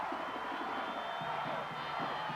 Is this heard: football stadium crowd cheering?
yes